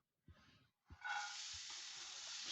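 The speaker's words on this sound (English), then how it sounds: "sweat off without colour these vegetables" Vegetables sweat in oil in a pan inside a campervan, a quiet, steady hiss that starts after a couple of soft clunks and continues without talk.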